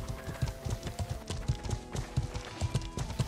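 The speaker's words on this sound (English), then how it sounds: "let us ride our horses and... and the peasants follow" Horses ridden in the video game Life is Feudal clip-clop in a quick, even rhythm of hoof strikes at moderate volume, with no voices over them.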